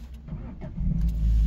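A Peugeot 307 estate with a five-speed manual gearbox starting up, a brief crank then the engine catching and settling into a low, swelling idle rumble.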